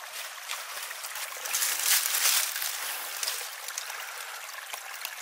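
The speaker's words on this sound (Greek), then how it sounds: "Ένα ακόμη σημείο όπου το νερό ψάχνει διέξοδο μέσα από το βουνό." Steady trickling spring water flows continuously out of a mountainside at the sources of the Sakoulevas river near Florina, Greece, a soft splashing stream close by with no voices, swelling slightly in the middle.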